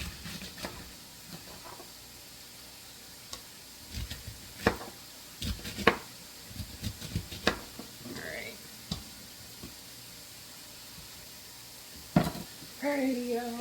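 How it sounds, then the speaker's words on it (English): Cabbage is chopped and then tossed into a hot skillet, with scattered knife taps and clicks over a quiet sizzle and stirring, plus a few brief spoken words. "I am just cutting up the rest of my cabbage so I can throw this bad boy in the skillet"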